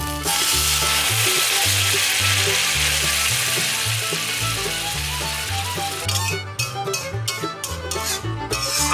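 Water poured into mustard and poppy seed paste frying in a wok for a rohu fish curry sets off a loud, dense hiss that crackles and sputters unevenly near the end.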